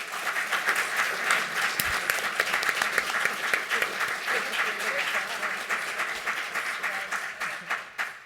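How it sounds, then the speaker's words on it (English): An indoor audience applauds a panel at the close of a leadership discussion event, a sustained burst of many hands clapping at moderate volume with a few voices mixed underneath. "We give our panel a round of applause."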